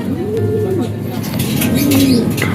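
Racing pigeon cooing in two drawn-out, rising-and-falling coos near the mic, with a steady background murmur beneath.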